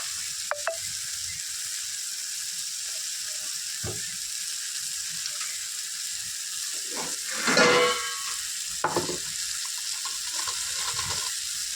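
Chili powder tipped into a pan of shrimp curry, the shrimp fried beforehand, raising a steady hiss of hot oil with one louder burst of sizzle and a few stirring scrapes and clinks close by.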